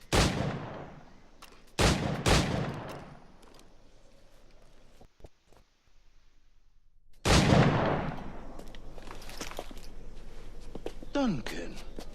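Firearm shots at targets in Assassin's Creed IV Black Flag, a few loud sharp bangs with decaying echoes, separated by quieter stretches, with voices talking over the game sounds.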